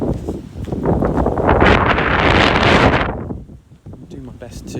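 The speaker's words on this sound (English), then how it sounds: "It's a lot more windy, so I apologise for the noise." Strong gusts buffet an outdoor microphone on a countryside loop walk in Somerset, a loud roaring rumble that swells over the first three seconds, then eases into lighter bursts of wind noise.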